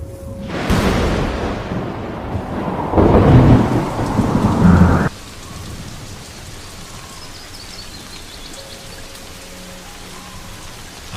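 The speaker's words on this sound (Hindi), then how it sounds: "सूखी घास पर पानी की बूंदें पड़नी शुरू हो गई हैं" Rain pours steadily onto dry grass in the Serengeti with a loud rumble of thunder rolling through the first half, then the downpour continues alone, softer and even.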